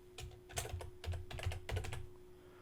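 A computer keyboard is typed on in a quick burst of close, crisp key clicks, in short irregular clusters that run for about two seconds and then stop, with a faint steady hum underneath.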